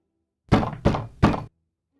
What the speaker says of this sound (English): Within 5 minutes, there was a loud pounding at the studio door.